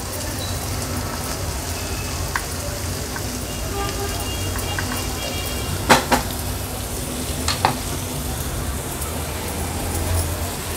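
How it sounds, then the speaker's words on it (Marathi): Green masala paste sizzling and stirred with onion in hot oil for an aubergine curry, a steady close fry hiss with occasional spoon scrapes against the pan, under a low continuous background hum. "हे हिरवं वाटण ॲड केल्यानंतर तेलावर व्यवस्थित आपल्याला हे मिक्स करून घ्यायचं आहे"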